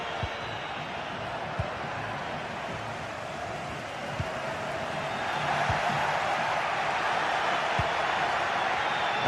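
A stadium crowd in a football video game, a broad continuous roar of many voices that swells louder midway, with occasional thuds and faint voices underneath.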